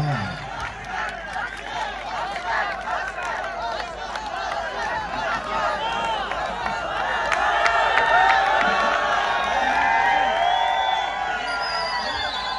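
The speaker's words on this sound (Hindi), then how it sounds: "तालियां होनी चाहिए भाई।" Audience at a university mushaira poetry gathering cheering and clapping, a steady crowd roar with whoops that swells midway and holds, voices mixed into the din.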